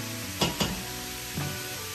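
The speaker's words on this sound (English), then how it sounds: "Let that meat brown for a couple of minutes." Beef tips and onions browning in a pan give a steady sizzle and fry, with a few louder stirring scrapes standing out near the start and again about two-thirds through.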